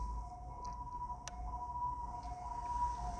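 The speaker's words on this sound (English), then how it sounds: "I know, guys, I know you can hear the ambulance." A faint ambulance siren wails in the distance, its steady tone drifting under quiet background noise.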